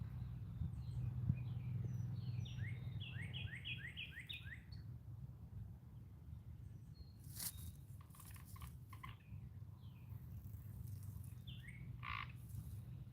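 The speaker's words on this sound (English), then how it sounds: "Can you hear the frog?" Frog croaking at an outdoor spot off the grid, a low steady chorus of calls with bird chirps and tweets overhead, continuous and fairly quiet, with no talking.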